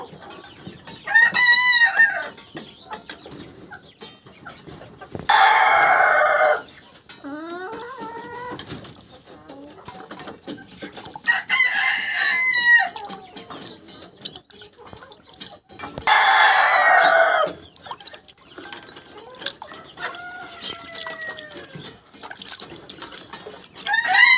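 Chickens on a farm cluck steadily while roosters crow loudly several times, each long crow rising above the ongoing clucking and bird calls nearby.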